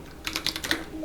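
A few quick computer keyboard key presses, including a Ctrl+V paste, heard as a short cluster of light close clicks over quiet room tone.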